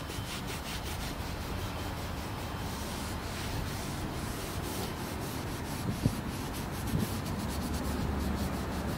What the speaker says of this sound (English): And so I'm going to wipe this.